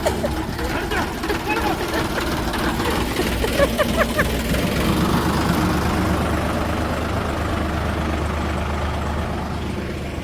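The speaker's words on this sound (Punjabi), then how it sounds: "ਟਰੈਕਟਰ ਸਟਾਰਟ ਹੋ ਗਿਆ" A tractor engine starts and runs with a steady low rumble and idle throb that carries through the whole stretch, while people talk loudly over it.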